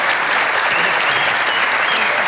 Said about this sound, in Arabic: تصفيق كبير على سي محسن